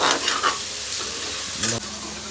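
A tadka for rajma sizzles loudly in a pan, hissing steadily with a couple of stirring scrapes and a brief clank near the end, without any talk.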